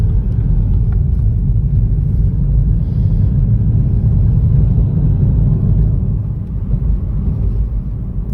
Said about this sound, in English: We're driving along the main road through the village